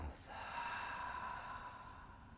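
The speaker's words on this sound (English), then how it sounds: "Breathe out the mouth." A single deep breath exhaled through the mouth during a vinyasa flow yoga class, a soft, steady breathy rush lasting about two seconds, close and fairly quiet with no talking over it.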